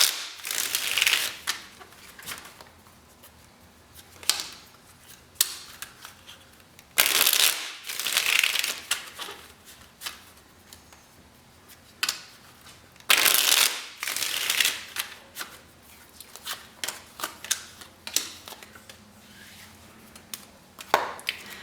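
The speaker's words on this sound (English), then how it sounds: "Three shuffles." Tarot cards shuffled by hand in three bursts of riffling, each a loud, close ratcheting flurry of card edges with quieter handling between.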